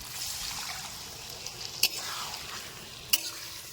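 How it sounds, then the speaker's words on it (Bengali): A little water poured from a bowl into a pan of sizzling cauliflower roast (phulkopi roast) in a village kitchen: a steady frying hiss with sharp clicks of a utensil, close and without talk. "দিয়ে দিচ্ছি সামান্য জল।"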